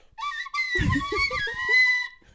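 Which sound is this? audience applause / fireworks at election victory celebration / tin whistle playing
tin whistle playing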